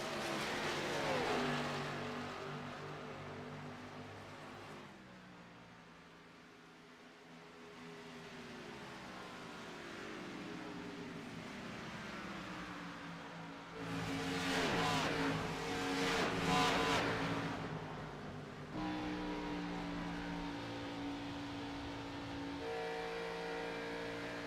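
Xfinity Series stock cars, including a Chevy Camaro, roar around the Auto Club oval, with engines droning and shifting pitch continuously, a louder pack surging past midway through, steady and fairly close with no voices.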